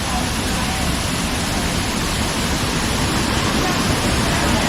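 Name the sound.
waterfall at Vattavada, Munnar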